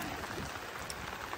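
Heavy monsoon rain in the Konkan countryside hisses steadily and densely in a short burst of continuous pattering.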